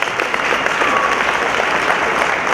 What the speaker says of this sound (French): on applaudit très fort la famille de Mimi